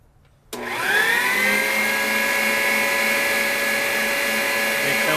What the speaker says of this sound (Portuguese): Fechamos a batedeira novamente